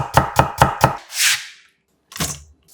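A kitchen knife cuts carrot into thin julienne strips on a board, four quick evenly spaced chops, a brief scraping sweep, then one more cut after a pause, crisp and close.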